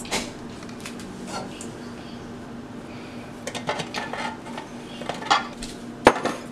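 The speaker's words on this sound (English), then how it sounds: "I'll just put those back in the container while I prepare everything else." Cut potatoes go back into a kitchen container while breakfast cupcakes are being prepared. Soft clinks and clatters of dishware come in uneven bursts, ending with one sharp knock over a faint background hum.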